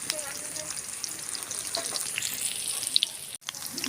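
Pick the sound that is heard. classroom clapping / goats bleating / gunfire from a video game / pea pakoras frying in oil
pea pakoras frying in oil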